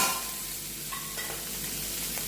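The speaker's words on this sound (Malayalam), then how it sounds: "കാശ്മീരി മുളക് പൊടി നന്നായിട്ട് വഴറ്റുക" A soft, steady sizzle of Kashmiri chilli powder and curry leaves sautéing in a pan, with faint stirring scrapes, no voices.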